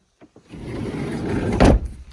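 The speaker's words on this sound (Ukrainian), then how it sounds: "Чути, як двері закриваються" A 2010 Renault Trafic van door swings shut with a solid thud after a brief rustle and low rumble, close by, with no talking.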